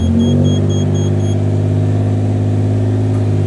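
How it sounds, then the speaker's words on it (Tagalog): A Japanese kei truck with a 660cc K6E engine revving, a loud steady mid-pitched engine drone with strong harmonic rumble close by, holding throughout with no talk. "Pakinggan nyo yung tunog, napaganda ng tunog ng ating sasakyan mga kol, di ba?"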